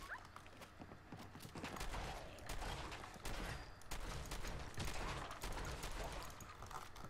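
Gunfire in Fallout 4, rapid repeated shots in a steady dense stream, fairly loud and near, with faint mechanical clatter between bursts and no talking.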